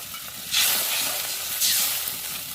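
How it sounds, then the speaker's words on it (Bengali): Egg curry boiling in a pan, a steady close hiss and bubbling sizzle that swells twice, with no voices. "এটা একটু অনেকক্ষণ ফুটবে, ফুটুক ততক্ষণ।"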